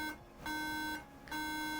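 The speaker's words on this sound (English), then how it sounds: "We are getting 3 beeps," Loud, steady electronic beeps from a MacBook Pro laptop at startup repeat in a regular on-off pattern, three beeps signalling a RAM fault, each tone sustained for about half a second, with no talking.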